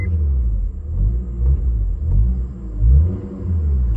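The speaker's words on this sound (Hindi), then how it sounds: "एग्जॉस्ट नोट सुन रहे हो आप" A 2010 Honda Accord with a 2400 cc engine, modified as a Batmobile, idles with a deep, steady exhaust rumble and a few soft swells, close and alone.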